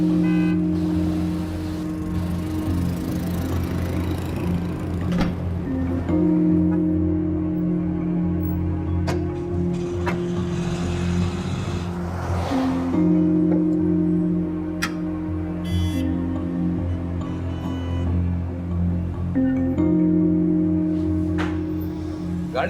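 Car engine misfiring, a steady close idle hum with a low drone that stumbles and shifts pitch at irregular intervals, punctuated by occasional faint clicks and ticks.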